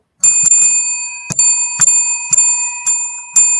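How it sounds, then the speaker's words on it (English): A bicycle-style bell rings sharply and repeatedly, about seven bright, loud dings in an irregular rhythm, each with a long ringing tone that carries between strikes, with no voices over it. "you're the only one with a bell tonight"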